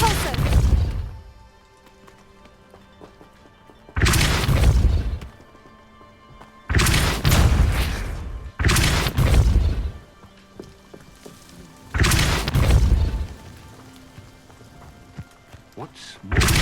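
Five loud, broadband spell blasts from a Hogwarts video game, each a sharp burst decaying over about a second, spaced a few seconds apart, with quieter rumbling game ambience between them.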